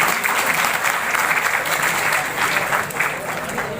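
Loud, steady applause from a seminar audience honoring a senior advocate, dense clapping filling the room without pause for about four seconds.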